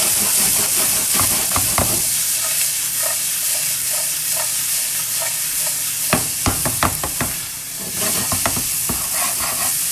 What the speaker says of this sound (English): And nicely saute it out